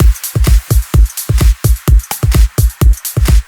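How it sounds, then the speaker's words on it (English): A punchy electronic drum loop with deep kicks and snappy claps in a tight, driving groove, layered with small percussive hits. "Together the drum loop sounds like this."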